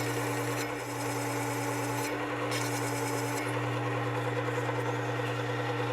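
A knife bevel rasps steadily against a spinning CBN wheel on a Worksharp 3000 sharpener, a continuous grinding hiss over a constant motor drone with no talk.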